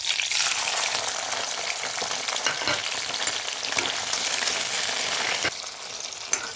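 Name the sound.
eri silkworm pupae frying in hot mustard oil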